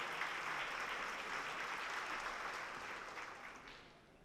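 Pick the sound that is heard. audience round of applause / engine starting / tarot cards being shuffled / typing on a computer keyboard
audience round of applause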